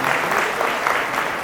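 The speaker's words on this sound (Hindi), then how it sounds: "आप अपने श्रोता समाज के लिए एक बार जोरदार ताली बजा करके" Loud, sustained applause from an audience at a spiritual gathering, dense clapping filling the whole stretch without any voice on top.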